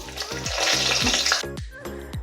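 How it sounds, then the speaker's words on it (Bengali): Eggplant pieces frying in oil left over from frying hilsa fish, a close, crackling sizzle broken by short tonal clatters and scraping. "এবার মাছ ভাজার তেলেই বেগুনগুলো ভেজে নেব।"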